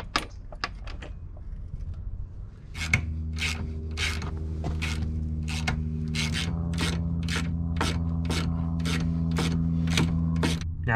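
A hand wrench ratchets out 15 mm bolts on a VW Bug, first in a few scattered clicks, then as a fast, even run of ratcheting clicks over a steady low hum, close and fairly quiet.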